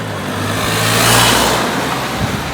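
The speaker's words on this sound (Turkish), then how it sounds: "Dur araba geliyor." A car approaches and drives past, its engine and tyre noise swelling to a peak midway and then fading as it moves away.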